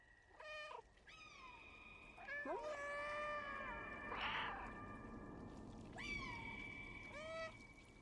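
Several cats meow in the video game Stray, with a series of drawn-out, rising and falling cries and a short burst of calls near the start, sounding close and clear over faint background ambience.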